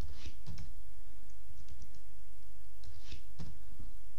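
Fingers type code on a computer keyboard in short, uneven bursts of sharp clicks and taps, close and moderately loud, separated by quiet pauses and with no one speaking.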